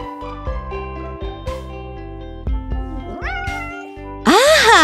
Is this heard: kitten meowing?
yes